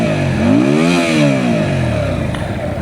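A Keeway Benda V302C V-twin motorcycle engine revving up and back down in one close, loud sweep, with a rough throbbing idle continuing afterward.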